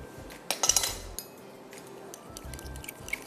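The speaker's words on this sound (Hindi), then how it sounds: "तब तक ज़रा दही को फेंट के रखते हैं।" Yogurt being beaten in a bowl for chana chaat, giving a run of quick metallic clinks and scrapes of a utensil against the bowl, loudest early on and then lighter, intermittent taps.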